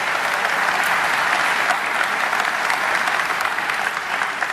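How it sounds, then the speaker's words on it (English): A conference hall audience delivers a sustained, even round of applause, loud and continuous throughout with no voices standing out. "Please give Robin a great round of applause."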